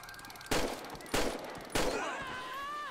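Three loud, separate M4 rifle shots ring out in GTA 5, each a sharp crack with a short decaying tail, spaced about half a second apart, followed by lingering noise and a faint siren-like wail.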